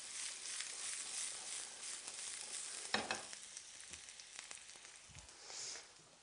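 Raw mushrooms sauté in oil in a pan, a soft steady sizzle with a few louder scraping stirs and faint clatter, heard alone without talk.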